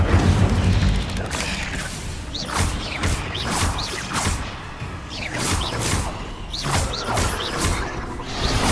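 Repeated fire-spell casts in Hogwarts Legacy, a string of whooshing, crackling bursts about every second over a steady rumble of game sound, loud and close throughout.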